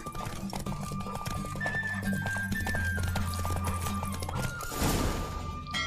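In The Witcher 3 video game, a horse gallops hard in a race, with rapid clip-clop hoofbeats, snorts and a neigh over a rushing wind and background tones, ending in a louder burst.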